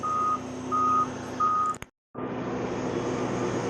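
A water truck reversing at a country club milling job sounds three steady, evenly spaced backup beeps over a loud engine drone, then a brief cutout and the beeping resumes faintly under the rumble.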